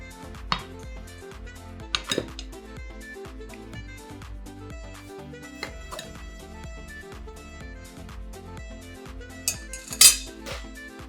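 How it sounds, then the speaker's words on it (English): A spatula stirs carrot cake batter in a mixing bowl, giving soft scrapes and occasional light clinks against the bowl over steady background music. "now very gentle, we start mixing with the spatula"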